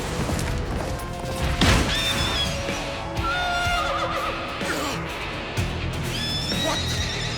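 In an Attack on Titan anime scene, a horse lets out shrill whinnies as a titan attacks it, with heavy crashing impacts and thuds from the fight around it.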